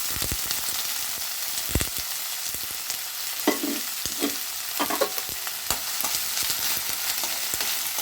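Onions and dried red chilies fry in a few spoons of oil, a steady broadband sizzle running throughout with scattered clinks and scraping stirs of a spoon against the pan.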